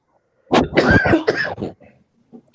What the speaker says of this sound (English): I am sorry, I have some cough problem today.